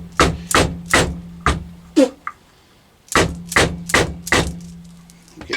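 A socket knocks a motor shaft further onto a diesel heater motor, a series of sharp metallic taps in two bursts with a short gap between, close and fairly loud over a faint steady hum.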